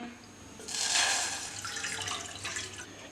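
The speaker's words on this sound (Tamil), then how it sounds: "தண்ணி ஒரு கப் எடுத்து வச்சுருக்கேன் இதை ஊற்றுறேன்" Water pours steadily into a cooking pan with a rushing, splashing sound that swells then settles, fairly close, as a cup of water is added for making rose tea.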